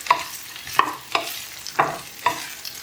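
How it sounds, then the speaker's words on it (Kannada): Okra is dry-roasted in a hot pan without oil, with five sharp scraping strokes of stirring at a fairly even rhythm over a faint background sizzle. "So first ಡ್ರೈಯಾಗಿ ಹುರ್ಕೊಳ್ಳಿ."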